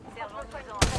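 Gunfire in the battle royale shooter Apex Legends, a sharp loud shot cracking near the end after quieter game noise and a voice speaking.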